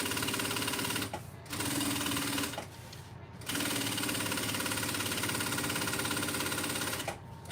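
Sewing machine basting fabric bag layers together, a close, fast, steady mechanical whir in three bursts separated by short pauses.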